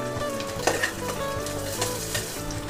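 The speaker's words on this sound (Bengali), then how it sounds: "দিয়ে আবারও কিন্তু সেম প্রসেসে একদম মিডিয়াম করে গ্যাসটাকে কিন্তু কষাতে হবে" Whisked yogurt and spices frying in a pan over medium heat while being stirred, giving a constant close sizzle with scraping strokes and small crackles throughout, no talking.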